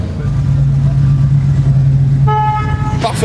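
American cars rolling out of a hangar, a steady low engine drone with a car horn tooting near the end, loud and close throughout.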